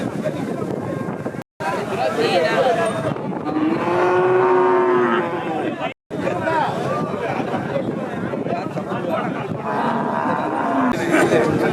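A Kankrej dairy cow lows loudly at the Pavoorchatram cattle market in Tamil Nadu, giving a drawn-out moo in the middle of the clip amid outdoor wind noise and constant nearby talk.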